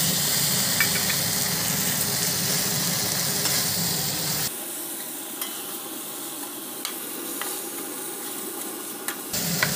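Vegetables sizzle and fry in a pan with onion paste and ginger paste, a steady close hiss with occasional stirring clicks, the sizzle dropping in the low end partway through, with no talking.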